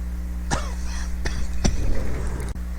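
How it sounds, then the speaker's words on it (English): A man pauses while recording at his desk to clear his throat, giving three sharp, close hacks about a second apart and then a rougher rasp, all over a steady low electrical hum. "I hit pause for a minute to clear my throat"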